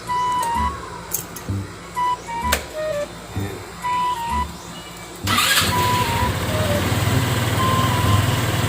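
A Rusi RFI 175 motorcycle starts on a single press of the starter, then settles into a steady, fairly loud idle; a few quiet clicks and brief sounds come first.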